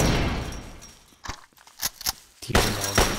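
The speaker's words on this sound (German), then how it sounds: "Es geht wahrscheinlich gar nicht durch den Maschendrahtzaun durch, die Schüsse." Gunfire in the online shooter game sZone-Online, with a dense rattle of shots at first, then scattered sharp single reports and short bursts, fairly loud and close, with no voices.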